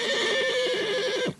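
A blind stallion gives one long, loud, close whinny with a shrill, wavering tone that cuts off sharply near the end.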